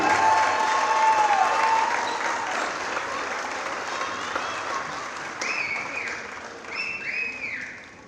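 Gym crowd at a high school girls basketball senior night applauding a senior player, sustained loud clapping and cheering that slowly tapers, with a few whistles and voices near the end.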